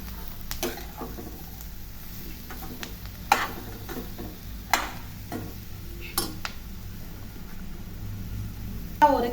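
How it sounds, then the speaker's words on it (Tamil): Ridge gourd pieces stirred in a pan with spices, a spoon scraping and knocking in scattered clicks over a low steady sizzle. "ஒரு கிளறிக்கலாம்"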